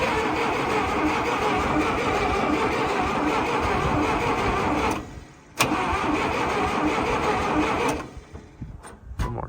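A long-idle Massey Ferguson 180LP tractor engine cranks steadily and harshly for about five seconds, stops, gives a short sharp catch, then cranks again briefly and trails off, close and loud.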